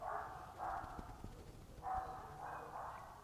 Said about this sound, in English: Do you hear the dogs barking?